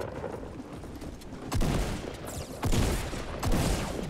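Gunfire rings out in a Fortnite match: loud bursts of shots come in several sharp clusters over a continuous background of game noise.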